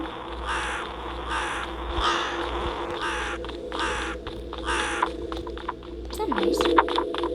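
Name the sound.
crow cawing in a scary video game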